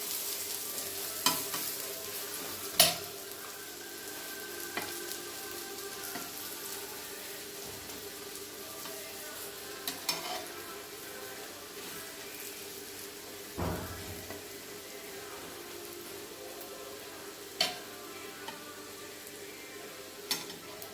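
A masala onion omelette frying in a pan gives a soft, continuous sizzle, with occasional clinks and scrapes of a utensil stirring and turning it. Steady and fairly quiet throughout.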